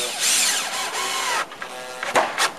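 Power drill with a number 3 Phillips bit driving coated, colour-matched screws into a fence panel, a short whirring drive that winds down with a click at the end.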